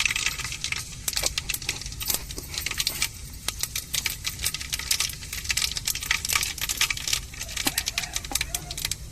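Mustard seeds splutter and pop in hot oil for rasam: a dense run of sharp crackles and ticks over a low sizzling hiss, steady and close throughout.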